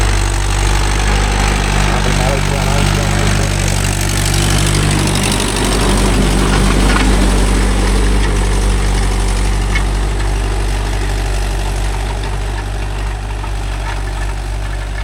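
A Mahindra 575 DI tractor engine idles loudly and close, a steady deep rumble with continuous vibration that holds unchanged for fifteen seconds, a slight swell in the middle.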